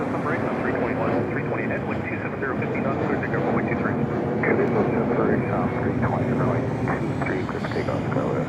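An airliner takes off at Toronto airport in a crosswind, its engines giving a steady loud roar throughout, with people talking over it.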